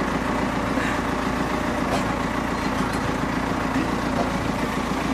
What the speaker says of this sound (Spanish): Mira, un tractor nos está llevando.